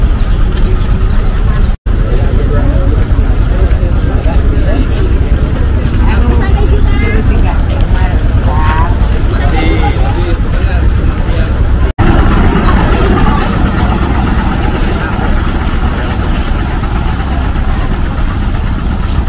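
Steady mid-range engine drone inside a crowded passenger river boat on the Mahakam at Samarinda, with a busy murmur of many passengers talking close by throughout.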